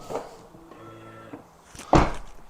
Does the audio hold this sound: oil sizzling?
no